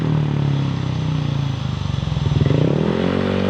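A motorcycle fitted with a re-bored rob1 aftermarket exhaust idles close up with a deep, bassy burble, then revs up in a rising throaty surge before settling back, alone without talk.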